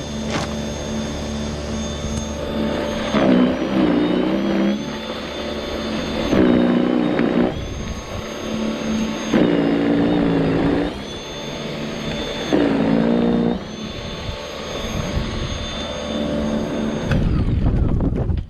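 A Litheli 40V electric snowblower throws snow out of its chute in a steady, loud whining motor drone. The pitch and strain rise and fall in repeated surges as it bites into heavy snow.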